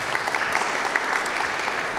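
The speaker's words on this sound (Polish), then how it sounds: "Poproszę o brawa." An audience at a book discussion event in Warsaw claps in a steady burst of applause, moderately loud and evenly sustained for a couple of seconds.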